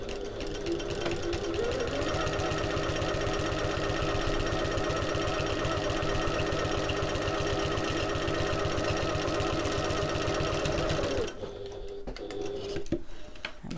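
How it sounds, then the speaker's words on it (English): A sewing machine top-stitching the bottom edge of a fabric backpack, running in one long fast rattling burst for about eleven seconds before stopping, followed by a few small handling clicks. "I'm going to flip it round and top stitch the bottom edge as well."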